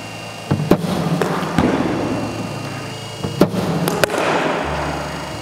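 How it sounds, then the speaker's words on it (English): A cricket bat strikes a ball several times during a batting session against a professional cricketer, each hit a sharp, loud crack over steady outdoor background noise. "That's a good T20 shot"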